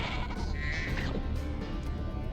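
A sheep bleats in Spyro 2: Ripto's Rage on the PlayStation, a wavering cry over steady game music and ambience, with a second short bleat following soon after.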